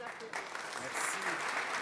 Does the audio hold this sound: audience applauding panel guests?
yes